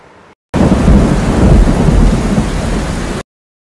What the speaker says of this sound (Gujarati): વાવાઝોડા અને વરસાદથી ઠેર ઠેર ભરાયા પાણી.